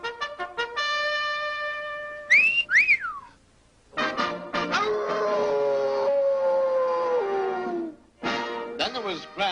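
A cartoon wolf in a Tex Avery animation howls with long, wavering voiced cries and whistle-like rising and falling glides, performed by a human voice, broken by short pauses and mixed with vocal sounds.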